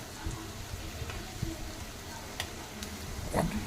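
Cauliflower 65 pieces frying in oil, a soft, steady sizzle with occasional light clicks and stirring taps, close but fairly quiet, with a voice speaking faintly over it.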